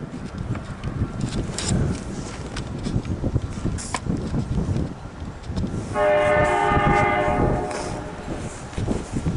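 A CN freight train led by a GMD1 locomotive rumbles along nearby, then a loud horn blast sounds for a couple of seconds before fading back into the rolling noise.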